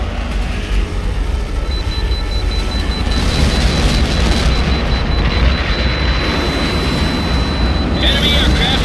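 Jet fighter engines in Tom Clancy's HAWX roar steadily in a dense, continuous wash, with a thin high whine running through much of it, while people speak over the noise.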